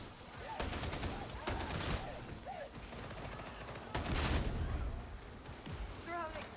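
Gunfire in an online video game, scattered bursts and single shots at moderate loudness under excited player voices talking over the fighting.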